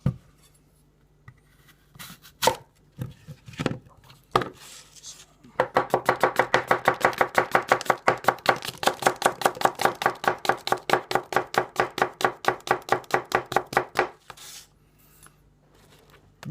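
Takamura Chromax santoku knife slicing a crisp pink apple into thin slices on a board: a few scattered cuts, then a long, steady run of rapid, evenly spaced chopping thuds, close and crisp, fading out near the end.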